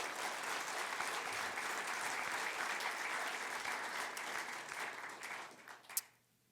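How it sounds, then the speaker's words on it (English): An audience at a conference event applauds in a steady wash of clapping that gradually thins and fades out, with one sharp final clap near the end. "Please give them a round of applause."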